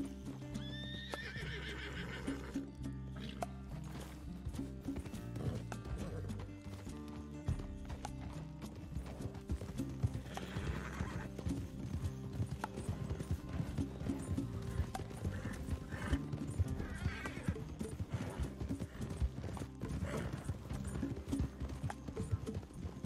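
A horse in the video game Red Dead Redemption 2 trots with steady, rhythmic hoofbeats throughout and lets out loud whinnies, set against a dense layer of game ambience.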